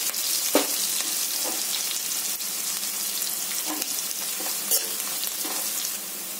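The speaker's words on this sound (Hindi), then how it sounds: "और इसको फ्राई करूंगी।" Chopped onion pieces frying in a pan for a suran (elephant yam) curry, a continuous close sizzle broken by several sharp stirring scrapes, with no one talking.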